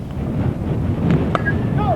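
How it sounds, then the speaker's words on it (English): Steady wind buffets the microphone at an outdoor softball game with a low, rumbling roar throughout, while faint voices and a brief whistle-like tone sit underneath. "Very windy here."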